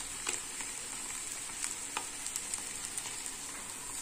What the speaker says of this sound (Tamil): இந்த மூளை கொஞ்சம் ஃப்ரை ஆயிடுச்சு